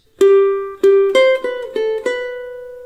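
A ukulele plays one bar of a melody: six bright plucked notes, the first two held on one pitch before the line steps upward, each ringing clearly and close with no voice over it.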